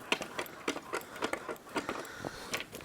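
A salvaged Pilot seat for a KamAZ truck, with worn pins and bushings, clacks and rattles as its lever is worked between forward and back positions, making a quick series of close mechanical clicks throughout.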